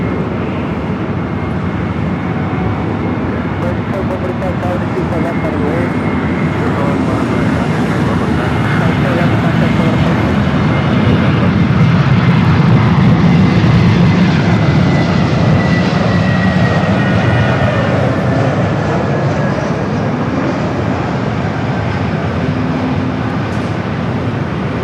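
A Delta Airbus A321neo jet roars loudly and steadily at LAX, a sustained close engine rumble swelling slightly mid-pass with no talk over it.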